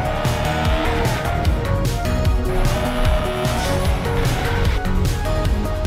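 Car driving in a GTA-style video game, engine roar with screeching tires and skidding, busy and continuous over several seconds with a few clunky impact-like hits mixed in.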